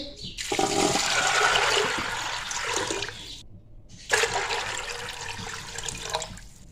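Water pours loudly into a vessel of washed chickpeas in two bursts, a steady splashing gush for about three seconds, a brief pause, then another strong pour.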